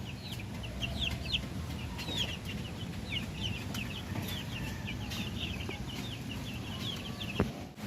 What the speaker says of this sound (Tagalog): So guys, ito naman yung bago nating rooster.